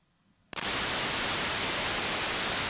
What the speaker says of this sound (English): Let's have a listen to the A output, which is analog noise.